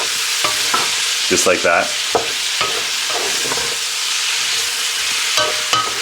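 Onions sizzle in bacon fat with a loud, bright, continuous hiss while a utensil stirs and scrapes the pan in scattered knocks, and a voice speaks briefly over it.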